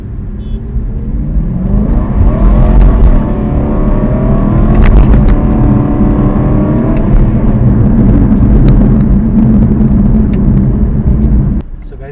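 A 3.7 litre naturally aspirated V8 in an Aston Martin, producing 420 horsepower, runs loud and close with rising and falling revs and a steady rumbling roar that drops off at the very end.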